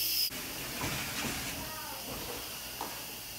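Steam hisses steadily out of an Instant Pot during a quick pressure release, a faint, continuous hiss that follows a brief louder burst at the start.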